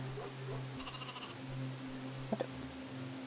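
Sheep in the video game Shepherd of Light give a couple of short, soft bleats over a steady low game soundtrack, with no talking.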